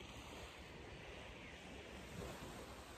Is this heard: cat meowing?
no